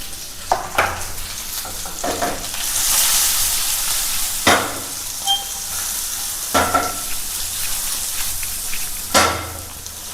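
Capsicum, onion and green chilli fry in a pan for chilli paneer, with a steady sizzle broken by several loud spoon scrapes and stirring knocks.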